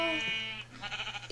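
A single drawn-out sheep bleat in vanilla Minecraft, clear and close, followed by a second wavering bleat, with no talking.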